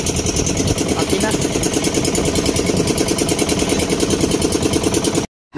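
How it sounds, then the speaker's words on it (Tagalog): A fishing boat's engine runs loud and close with a steady, dense throbbing drone, then cuts off abruptly at the end. "Napandar na si boss sa makina"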